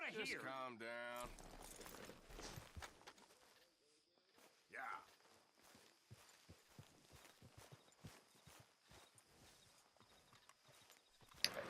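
Horse hooves clip-clop across the camp in the video game Red Dead Redemption 2, a steady close walking beat that runs throughout, with voices and other game sounds in the first seconds.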